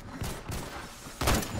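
Gunfire crackles in the first-person shooter Phantom Forces, several sharp reports in quick succession with a heavier, louder burst near the end, all fairly close.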